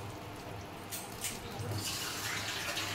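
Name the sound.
water poured into jute leaves in a pressure cooker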